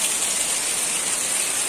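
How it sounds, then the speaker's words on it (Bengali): Heavy rain with gusting wind pours down, water spilling off the top roof in a dense, steady hiss that fills the whole stretch with no pauses and no voices. "এত বৃষ্টি পড়ছে, মানে প্রচুর হাওয়া দিচ্ছে আর ঝিট দিচ্ছে"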